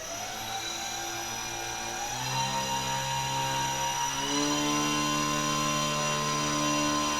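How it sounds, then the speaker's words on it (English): An electric motor and propeller on a scratch-built model aircraft spin up as the throttle is advanced: a steady whine that climbs in pitch in stages and grows louder, heard close with no talking. "let's start advancing the throttle slowly"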